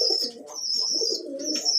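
Domestic pigeons at a local farm give soft, rolling coos close by in overlapping phrases, with a thin high chirping tone running above them throughout.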